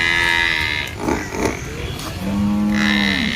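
Buffaloes at a cattle market, including the Jafarabadi breed, low loudly and close by in drawn-out calls. The calls are separated by grunts and noise from the crowd.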